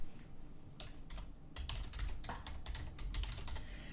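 Someone types a file share name on a computer keyboard, giving a steady run of crisp, close key clicks and presses with short pauses, no talking.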